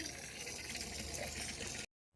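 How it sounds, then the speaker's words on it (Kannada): Water rushes steadily into a container at home, a close, continuous gushing pour that runs for about two seconds before cutting off abruptly. "ನೀರು ತುಂಬಕತ್ತೆ ನೋಡ್ರಿ"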